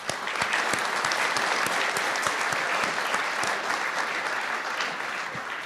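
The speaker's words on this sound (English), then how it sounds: "let's please give another round of applause to our 6 winners" An auditorium audience at a medical school honors convocation gives sustained applause for award winners, a dense, even burst of many hands clapping that holds steady and tapers slightly at the end.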